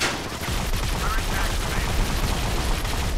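Rapid automatic gunfire with a boosted rate of fire in the mobile shooter Modern Combat 5, a continuous dense rattle of shots filling the whole stretch, close and steady.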